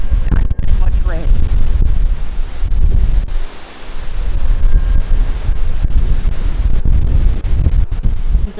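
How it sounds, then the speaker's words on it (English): Strong Hurricane Milton wind with little rain buffets the microphone in continuous heavy gusts, a loud roaring rumble with brief lulls. "pretty freaking windy, but we are actually not getting much rain."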